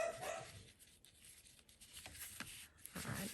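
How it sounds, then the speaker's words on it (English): A dog barks a few times in the background, short scattered yelps over quiet room noise, with some rubbing and shuffling sounds nearby. "I'm so sorry about my dogs."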